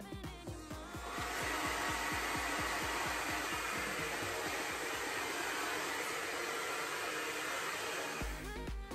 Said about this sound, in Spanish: Siempre lo seco con aire frío para no darle exceso de calor a mis rizos.